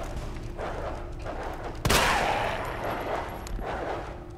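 A single loud gunshot in the survival horror game Resident Evil 2, sharp and close, ringing out over a low, murky ambient background with faint sounds before and after.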